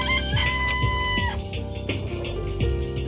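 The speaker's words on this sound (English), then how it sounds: "It's a chicken." Video-game chicken clucking, a few short close cackling calls over a steady tonal game background, with no voices.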